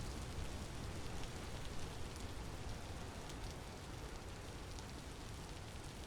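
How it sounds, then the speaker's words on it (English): Rain pours steadily in the survival video game Vintage Story, a dense, even hiss of falling water with no breaks, soft and continuous throughout. "Is it still just pelting down? Pretty much. Looks like it could rain all day."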